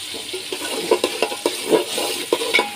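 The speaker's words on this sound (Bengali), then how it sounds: "এই যে মাংসটা যেরকম কষানো হইতেছে" Beef being sautéed with onions and spices in a pot for kosha: a spoon scrapes and stirs through the sizzling meat in a steady run of soft knocks and clinks against the pot.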